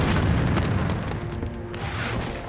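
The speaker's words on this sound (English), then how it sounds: "the Soviets unleash a punishing artillery barrage" A loud artillery barrage thunders on a battlefield as deep booming explosions roll together into a continuous rumble, with no voices heard.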